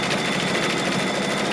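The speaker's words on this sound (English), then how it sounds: "And now I'm just going to stitch off the quilting design." An embroidery machine stitches a quilt block's design of little flowers in rows with a steady, close, continuous buzzing hum that stays even throughout.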